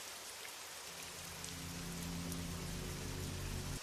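Steady rain falls throughout as a dense, even hiss of drops on surfaces, with a low droning hum joining underneath after the first second and continuing to the end.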